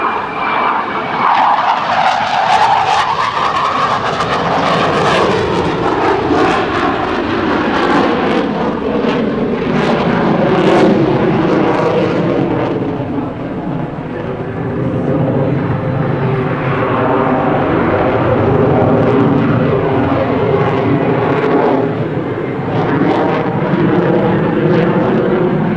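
An F/A-18C Hornet jet fighter flies a demonstration at the 2007 NAS Oceana airshow, its engine a loud, sustained roar that sweeps in pitch as it passes, with no talk.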